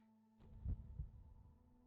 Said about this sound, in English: My heart beat louder.